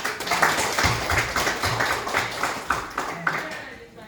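A church congregation claps in applause for the pastor's wife who baked waffles, a steady, dense patter of many hands lasting several seconds with murmuring voices mixed in.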